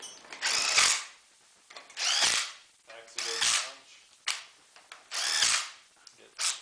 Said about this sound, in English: so I'm going to grab my little electric impact guy